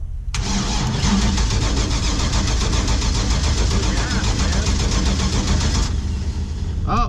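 A 1949 International KB2 truck engine cranks and catches, then runs with a loud, rough, rapid rhythmic chugging close by for several seconds before cutting off abruptly.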